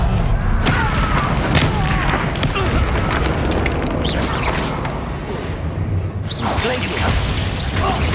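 Expelliarmus, Protego and Stupefy spells are cast in combat in Hogwarts Legacy on PC: booming magical bursts and thuds over a continuous low rumble, with a voice speaking throughout.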